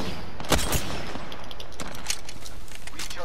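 Apex Legends gunfire during a squad firefight, a dense run of sharp, rapid shots at fairly close range over constant loud game noise.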